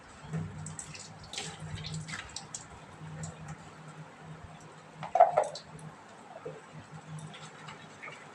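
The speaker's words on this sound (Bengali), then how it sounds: "মিক্সির বাটিটা ধুয়ে জলটুকু দিয়ে দিই" Water running and splashing while a mixer grinder bowl is rinsed, faint trickling with a brief louder splash midway, quiet and close.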